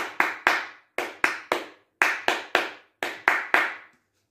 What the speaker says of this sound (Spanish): Con las palmas, facilísimo